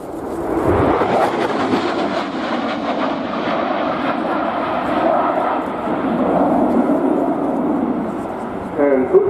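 A Polish Air Force MiG-29 fighter performs a flying display at an air show, its jet roar building and sustained loudly for several seconds before easing, with a commentator talking over it.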